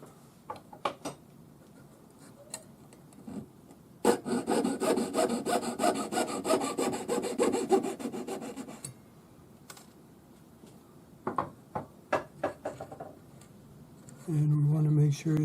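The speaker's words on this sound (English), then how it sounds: "I'll cut it here at the correct length, and I'll just use my saw" A jeweler's saw cuts metal stock to length for a turquoise ring setting, a burst of rapid, close rasping strokes for several seconds, with faint scattered taps and brief handling sounds around it.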